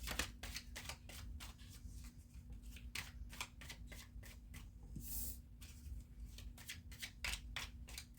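Tarot cards being shuffled and drawn, a run of crisp riffling slaps and flicks repeating steadily at close range, alone without any talk.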